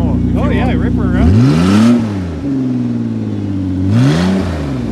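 A Ford Escape engine revs hard and repeatedly close up, its pitch sweeping up and down through several rising and falling surges, while people talk over it.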